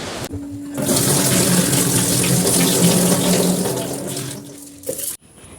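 Soaked raw rice rinsed under a running kitchen tap, a loud steady gush of water splashing into a vessel for several seconds, opening and ending with brief handling clatter as the flow starts and stops.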